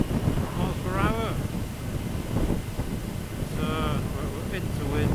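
Strong wind of about 30 mph buffeting a microphone on a coastal road in Anglesey, a steady loud roar throughout with a person talking over it.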